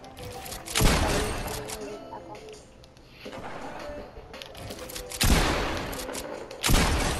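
Gunfire in a 1v1 shooting game: four sharp, loud shots spaced a second or more apart, each with a short ringing tail over low game ambience.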